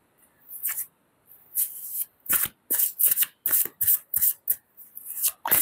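Playing cards shuffled by hand at close range in a series of quick riffling bursts, the rhythm speeding up toward the end, with no talk.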